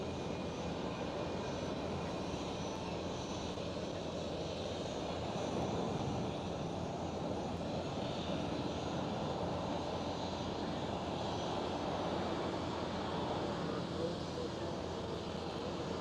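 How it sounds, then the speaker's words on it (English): Croatia Airlines Airbus A319 jet airliner passing at Amsterdam Schiphol airport, a steady broadband engine roar holding for the whole stretch at moderate distance, swelling slightly around the middle, with no voices. "And there goes the Croatia A319."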